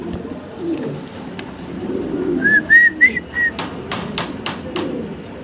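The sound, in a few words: blackless shirtin pigeons cooing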